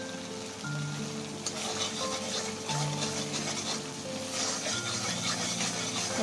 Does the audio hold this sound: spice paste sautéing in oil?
yes